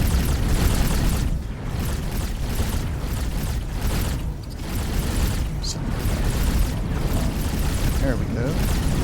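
Shield grenades burst in the X4: Foundations space game as a dense, continuous roar of booming blasts and crackling fire, loud and unbroken across the whole stretch with a voice talking over it.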